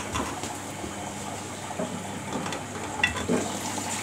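Water running and sloshing inside a Samsung WF80F5E0W4W washing machine during its final rinse, a steady low wash with faint splashes and a soft thump near the end.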